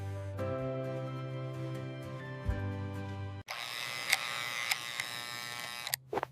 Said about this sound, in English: The clippers are very noisy.